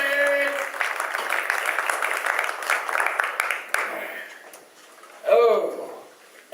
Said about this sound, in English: a big round of applause for the homing orchestra